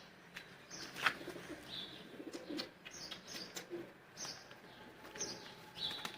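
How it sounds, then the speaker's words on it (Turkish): Soft turtle dove cooing in short calls on a street amid outdoor background noise, with occasional chirps and light rustling. "Bakın arkadaşlar küçük kumru da burada."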